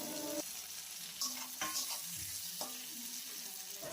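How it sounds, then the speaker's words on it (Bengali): Nigella seeds, chilies, onions and tomatoes fry in a pan with a steady broadband sizzle, broken by a few sharp stirring scrapes and clicks, with no voices. "কালো জিরে, লঙ্কা, পেঁয়াজগুলো দিয়ে লাল হয়ে যাওয়া পর্যন্ত ভেজে নিতে হবে"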